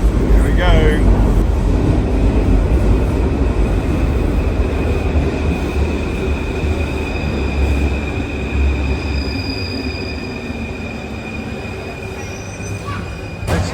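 An underground Paris metro train runs steadily and loudly throughout, with a continuous rumbling roar and faint high wheel squeals on the rails.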